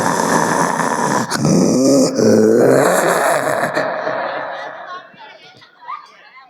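A mimicry artist voices a dog's growl, loud and close, with rough snarling bursts. The growl then fades into quieter scattered background sounds.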